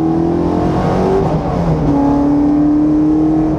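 Championship-winning 2002 Mustang Cobra Grand Am race car engine on track, a loud, steady high-rpm drone held near 5000 rpm with a rough, stuttering edge as it breaks up, close and continuous without pauses.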